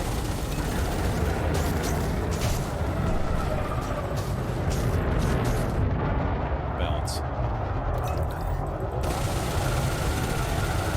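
Plasma cannon fire in a video game, a dense, loud stream of booming blasts and rumbling impacts that runs unbroken for the whole stretch.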